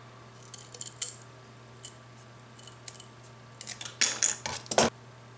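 Scissors snipping through a piece of a canvas craft project, several crisp close cuts in short bursts, getting faster and louder toward the end, with no talking.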